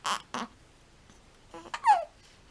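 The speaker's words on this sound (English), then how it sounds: "You got hiccups?" One-month-old baby hiccups: short, sharp little bursts, close and soft, with a couple of breathy babbling sounds in between and no adult talking.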